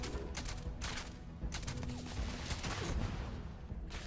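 Grenade explosions and gunfire in the video game Starfield: dense bursts of rapid weapon fire mixed with heavy booming blasts, loud and continuous throughout, with rhythmic volleys recurring every second or so.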